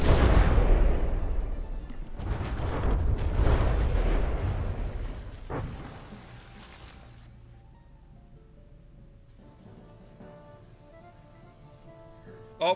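Heavy naval cannon shots and booming explosions from warships battling in the video game From the Depths, several big blasts in the first half fading into a quieter rumbling tail with faint tones near the end.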